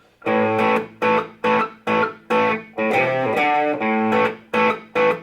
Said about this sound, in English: So if we get in here with some distortion